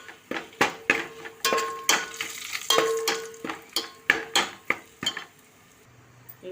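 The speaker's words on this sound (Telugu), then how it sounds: "ఇవి ఫైనల్ లాస్ట్ కరివేపాకు తాలింపులు." Curry leaves, cumin, dried red chillies and turmeric fry in hot oil as a rasam tempering. A spoon clanks and scrapes against the pan in sharp, close strokes over a soft sizzle, then everything quiets near the end.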